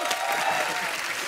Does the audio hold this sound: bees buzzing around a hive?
no